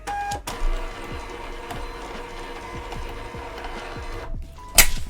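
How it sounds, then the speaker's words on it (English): A 4x6 thermal label printer prints shipping labels, a steady mechanical whir with regular clicking pulses for several seconds, then a brief pause and a sharp tearing snap at the end, close and clear. "4x6 label printer. Click on that. It'll download and print."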